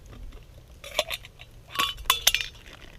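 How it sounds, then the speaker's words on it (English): A spoon stirs cooked pasta for camp-style mac and cheese in a metal camp pot over a fire, giving a few sharp close clinks and scrapes against the pot in short bursts. "So I'm gonna give it a stir, check it."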